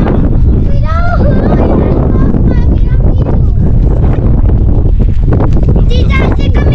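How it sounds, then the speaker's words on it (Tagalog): Strong wind blows across a hilltop near a new house, roaring and buffeting the microphone loudly throughout. Several people talk over the constant gusts. "Ang lakas ng hangin dito sa taas."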